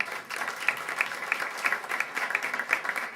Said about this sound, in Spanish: Yo pido un aplauso, y es la primera vez que lo hago, para Rocío Guti, que está aquí presente.